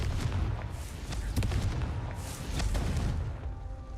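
A Confringo fire spell in Hogwarts Legacy blasts and rumbles repeatedly, with deep booming impacts and crackling bursts rolling continuously at close range, loud throughout.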